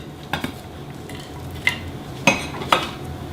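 Cooked bacon pieces are set onto plates with a few distinct clinks and scrapes of a utensil on dishware, spaced apart over a low kitchen hum, close and unaccompanied by talk.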